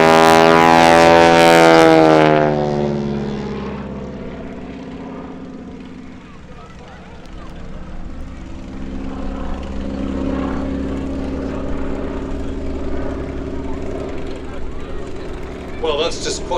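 A Stearman biplane fitted with a 450 horsepower engine, flying wing-walking aerobatics at Sywell airshow, passes with a loud propeller drone that pulls away and fades, then settles into a steady distant rumble under commentary.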